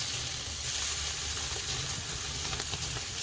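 The fat cap on the side of steaks sears over an open fire on a Chud Box. A dense, continuous close sizzle crackles throughout with small pops and no talking.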